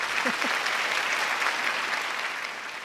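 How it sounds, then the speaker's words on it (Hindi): A crowd at an event bursts into loud, dense clapping that fills the whole moment and tapers slightly toward the end, with a voice faintly calling out at the start. "अरे तालियां भाई, तालियां।"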